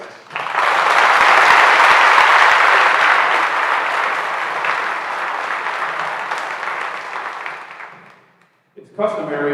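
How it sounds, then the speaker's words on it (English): Sustained applause from an academic assembly audience honoring students and guests, a dense, loud wash of clapping that swells quickly, then slowly thins and fades, with a voice beginning to speak at the very end. "Please join me in a round of applause for our accomplished students and our supportive guests"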